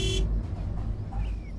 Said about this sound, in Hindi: दरवाजे पर हॉर्न बजने लगा